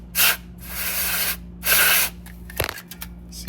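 Contact cleaner sprayed onto a gummed-up electrical connector on a DeLorean, two sharp hissing bursts close to the mic, followed by faint handling clicks and rattles.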